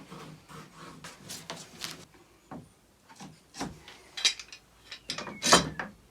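Clamps ratcheting tight on glued wood at a workbench: scattered clicking and ratcheting bursts, fairly quiet and irregular, several separate clamps being cranked down in turn.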